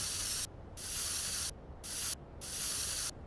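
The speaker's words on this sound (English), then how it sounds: "I guess we'll spray paint again." Four loud hissing bursts of spray paint in the video game Schedule I, each lasting under a second with short silent gaps between them, close and steady.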